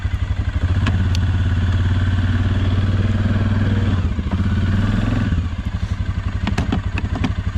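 A 2019 Suzuki King Quad 750 ATV engine running while riding through snow, a loud close steady low throbbing chug with rattles and clatter, easing off slightly near the end then picking back up.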